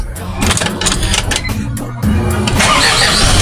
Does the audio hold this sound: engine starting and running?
yes